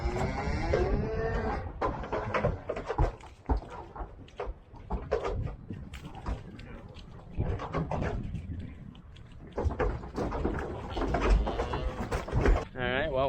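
Cattle and calves on a farm pasture with a flowing well and hay bale moo repeatedly, several loud calls close by with others farther off, while a person talks intermittently.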